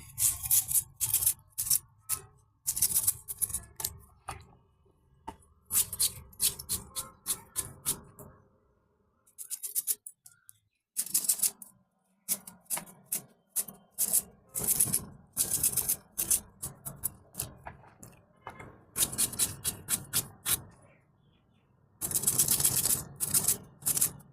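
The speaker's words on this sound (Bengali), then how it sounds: "আলু কুচি করে নিচ্ছি" A knife chops potatoes into small pieces on a board, with quick runs of sharp, close taps broken by short pauses and no talking.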